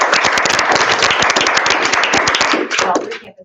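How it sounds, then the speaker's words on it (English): Audience at a school assembly bursting into applause for students, dense loud clapping that carries on for about three seconds before fading out quickly. "Applaud them."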